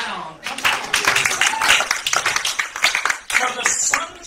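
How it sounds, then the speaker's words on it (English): A church congregation at a Sunday service applauding, a loud, dense burst of many hands clapping together close by that swells, holds for a few seconds, then tapers off. "You can applaud at this bit."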